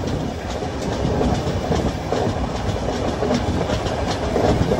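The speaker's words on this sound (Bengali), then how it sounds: "আর এই হচ্ছে ট্রেন ছাড়লো এখন।" Duronto Express sleeper train on the SMVT Bengaluru–Howrah route pulling out, a loud, steady rumble with continuous wheel clatter close by.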